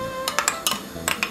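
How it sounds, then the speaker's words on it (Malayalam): A spoon stirs roasted coconut pieces into thick unniyappam batter, giving a handful of sharp metallic clinks and taps against the vessel in quick, uneven succession, close and clear with no talking. "ഇനി നമുക്ക് വറുത്ത് വെച്ചിരിക്കുന്ന തേങ്ങാക്കൊത്തിട്ട് ഇളക്കാം"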